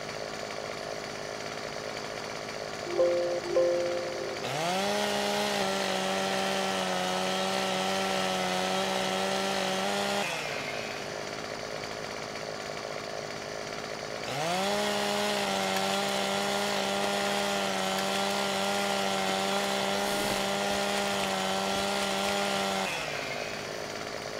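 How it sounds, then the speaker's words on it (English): Chainsaw in Farming Simulator 17 felling trees, two long sustained cutting runs of steady revving engine drone separated by a brief idle pause, loud and close with no voices. "I like how you can't run while you're got a chainsaw in your hand."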